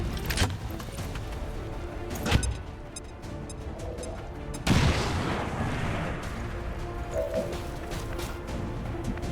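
A frag grenade bursts in a first-person shooter video game as a sharp, loud boom about halfway through, amid game ambience and an earlier impact thud.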